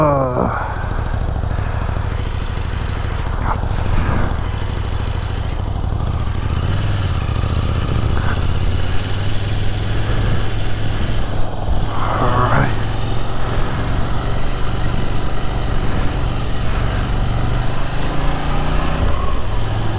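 A 2022 KTM 890 Duke GP with an 890cc parallel-twin engine runs steadily while being ridden, a continuous throaty drone with a few brief rev changes throughout.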